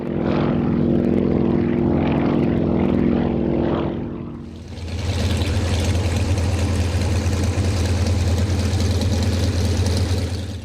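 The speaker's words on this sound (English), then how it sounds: "This brand new aerobatic aircraft is designed, built and flown by aeronautical engineer, test pilot and top aerobatic pilot Jurgis Kēris." A brand-new Yuka aerobatic aircraft, stressed to plus or minus 10 G, drones loudly with steady propeller and engine noise, the pitch shifting partway through as it passes, with no talk.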